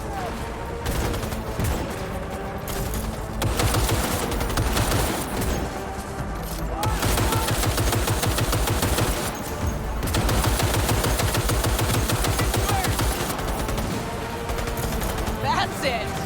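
Sustained firefights in Cyberpunk 2077 with rapid automatic bursts, repeated cracking shots and short pauses between volleys, loud and near, with a person speaking over the shooting at times.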